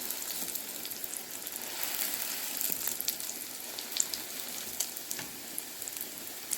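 Aloo chicken kababs, a Pakistani traditional recipe, fry in a pan with a steady close sizzle and scattered crackles and pops throughout, with no voices.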